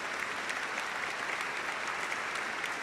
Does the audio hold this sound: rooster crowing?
no